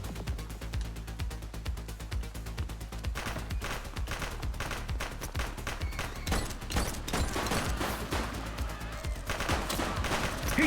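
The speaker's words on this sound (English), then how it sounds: "He's shooting!" Continuous heavy gunfire in the police game The Precinct, a dense, loud barrage of rapid shots and bursts with no let-up, crackling steadily from start to finish.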